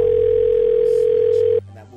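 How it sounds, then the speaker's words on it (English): A steady telephone dial tone hums loud and unbroken for about a second and a half, then cuts off abruptly, leaving faint room noise. "Make this phone call."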